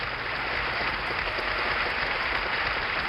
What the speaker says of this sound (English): the president could applaud politely whether or not he actually liked the performance